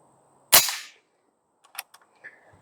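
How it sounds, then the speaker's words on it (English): An Airforce Condor SS .25 air rifle fires a single sharp, loud crack at a target, followed by fainter clicks and a small metallic ping as the shot lands. "I'm just shooting these fast at the target"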